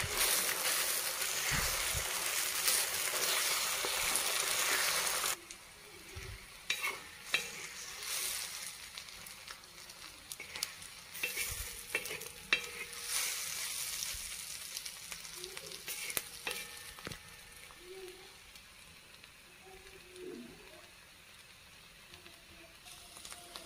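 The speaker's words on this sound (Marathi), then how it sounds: "चांगलं मिक्स करायचं ह्याला" Beaten eggs for egg bhurji are stirred and mixed in a hot pan, with steady sizzling and frying and repeated scraping taps of the utensil, loud at first and then settling into quieter patter.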